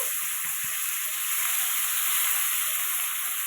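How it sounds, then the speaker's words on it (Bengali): Steady, dense sizzling of onions frying in hot oil, a continuous hiss with faint stirring clicks near the start. "পেঁয়াজটা একটু ভাজা ভাজা হবে"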